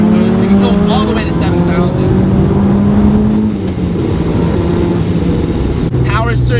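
A turbocharged Mazda Miata accelerates hard under full boost in second gear, its engine droning loudly and rising in pitch with a brief dip mid-pull, while someone talks over it inside the car.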